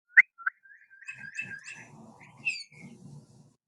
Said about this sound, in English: can you hear the birds singing in the park?